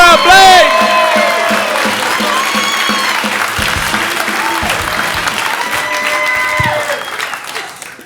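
A comedy club audience bursts into loud applause and cheering with whoops as a stand-up comic takes the stage, the clapping dense and sustained before tapering off at the end.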